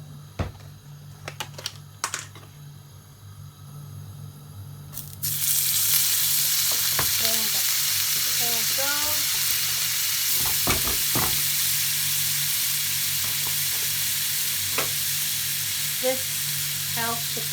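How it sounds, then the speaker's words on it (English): Olive oil and butter sizzling in a hot pan, a sudden bright hiss that starts a few seconds in and holds steady, with occasional utensil clicks and taps over it. "first you heat your pan, put in a tablespoon of olive oil, and a tablespoon of butter"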